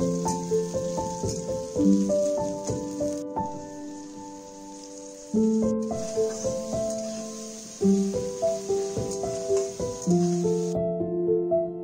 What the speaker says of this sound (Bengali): তারপরে গরম সাদা তেলে গোটা গরম মশলা, পেঁয়াজ কুচি, কুচনো কাঁচা লঙ্কা আর টমেটো কুচি হালকা ভেজে নেব।